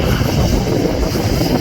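An easyJet airliner takes off at Schiphol Airport, heard as a steady, broad jet roar at moderate distance, constant throughout with no voices.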